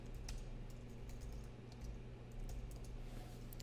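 Rapid, uneven keystrokes on a computer keyboard while entering values for a web project, a steady run of soft clicks over low room hum with no talking.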